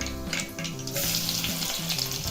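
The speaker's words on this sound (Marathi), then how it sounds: "आता लसूण टाकायचं आहे बारीक चिरलेला" Finely chopped garlic hits hot oil already crackling with mustard seeds and cumin, giving a steady, loud close-up sizzle and frying hiss that runs unbroken, with no talking.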